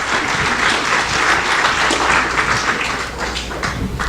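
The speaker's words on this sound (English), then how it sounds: "round of applause for all of them" An astronomy event audience gives a round of applause, loud, dense clapping from many hands sustained for several seconds with a low steady hum underneath.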